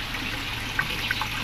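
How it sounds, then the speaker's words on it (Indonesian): Pond filter water pours and trickles in a soft, steady stream for koi, with a few faint splashy drips breaking through the continuous liquid flow. "saya beri air filter"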